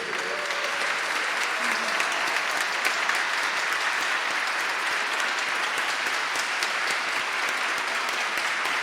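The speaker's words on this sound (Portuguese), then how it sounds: "Tem muitos amigos de pé e aplaudindo" A standing audience at a Brazilian award ceremony applauds in a dense, steady roar of claps that fills the hall evenly for the whole stretch, with no voices rising above it.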